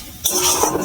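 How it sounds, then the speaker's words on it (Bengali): Onions fry in a pan with salt and turmeric as a spatula stirs them, a short scrape followed by loud, close sizzling. "নেড়ে চেড়ে নেবো ভালো করে, একটু নেড়ে চেড়ে ভেজে নেব।"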